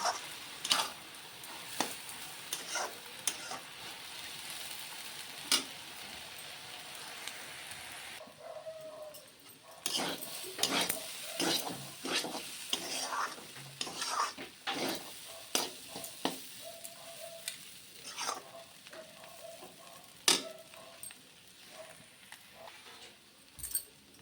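Dry sizzling of lentils in a pan with frequent scraping and clattering of a spoon as they are stirred, close and moderately loud, no talking.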